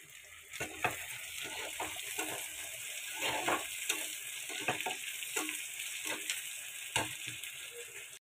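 Food fries in a pan on a home kitchen stove, a steady sizzle broken by repeated sharp scraping and stirring strokes, fairly close, with no talking.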